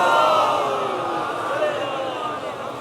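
A large mourning congregation at an Arbaeen majlis at Nishtar Park, Karachi, chants salawat loudly in unison, a dense roar of many voices that holds steady and swells slightly throughout.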